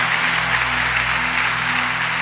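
Congregation applause during a church sermon, a dense, steady roar of clapping throughout, with a low hum running beneath it.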